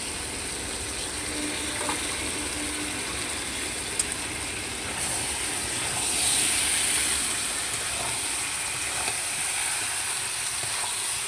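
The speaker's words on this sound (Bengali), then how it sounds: "কষানো হয়ে গেছে মশলাটা, এবার তার মধ্যে দিয়ে দিতে হবে মাংসগুলো।" Chicken pieces going into a pan of fried spiced masala give a steady, close sizzling hiss that swells slightly partway through and carries on without any voices.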